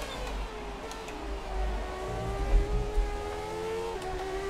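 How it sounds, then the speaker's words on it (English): A Haas Formula 1 car engine at the British Grand Prix in F1 2017, a steady high whine from close by that steps down in pitch as the gears drop, with a low rumble beneath. "I hear the downshift sounds, but the gear doesn't change."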